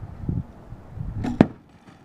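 A sharp, single thwack as an arrow from a compound bow with about a 50-pound draw strikes a car door, preceded by faint rustling and a brief whoosh.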